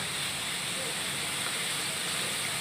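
Steady, dense sizzling hiss of fish frying in hot oil, continuous and fairly loud throughout with no pauses.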